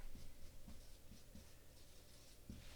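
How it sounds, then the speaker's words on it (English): Words being written by hand with a pen on paper: faint, close scratchy strokes in short repeated bursts, with no talking. "I'll just write them down"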